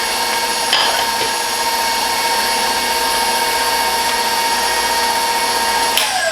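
An electric stand mixer beats eggs into pound cake batter, giving a loud, continuous motor whine with steady tonal hum and a couple of brief knocks, close and without speech.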